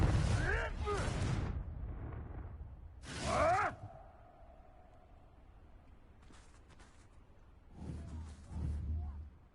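Two loud fiery blasts of the Confringo spell in Hogwarts Legacy burst out a few seconds apart, each a sharp whooshing explosion with a crackling tail, followed by fainter rumbling game effects and low ambient noise.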